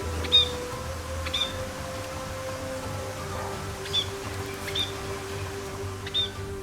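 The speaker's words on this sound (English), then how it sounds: "Can you tell what sound does parrots make? They squeak or talk." A pet parrot gives a series of short, high squeaks spaced irregularly over a steady background hum, fairly close and moderately loud.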